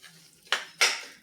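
Jaggery being stirred in a pan to melt it: two quick metallic scrapes or clinks of a spoon against the pan over a quiet background.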